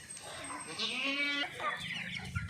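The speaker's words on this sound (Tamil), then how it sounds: "அடுத்து நாட்டுக்கோழி பண்ணை நம்ம வச்சுருக்குறோங்க" Country chickens on a farm cluck and squawk close by in a lively burst, several birds calling over one another with a rooster-like cry standing out.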